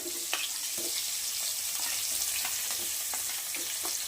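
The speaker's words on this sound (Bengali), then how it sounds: "প্রথমে আমি তেজপাতা দিলাম তারপরে আমি পেঁয়াজ কুচিগুলো দিলাম" Bay leaf and chopped onions sizzle in hot oil in a pan as a meat curry is started, a steady crackling fry with occasional sharp spatters and stirring scrapes, close and continuous.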